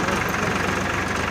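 A tractor engine with a broken silencer weld runs loud and continuous, close by, with a rough, rapid knocking pulse throughout.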